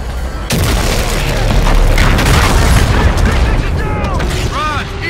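Heavy booming weapons fire and explosions rumble continuously in a space battle against a super carrier in Call of Duty: Infinite Warfare, loud and dense, with faint voices mixed in.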